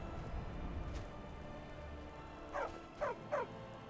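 A dog in Skyrim gives three short barks near the end, faint and fairly close, over a low steady ambient hum with no voices.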